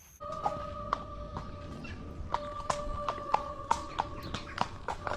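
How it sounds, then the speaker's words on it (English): A horse walks with a steady clip-clop of hooves, evenly spaced strikes at a walking pace over a constant tonal hum, fairly close and moderately loud, with no voices. "Oh, that horse."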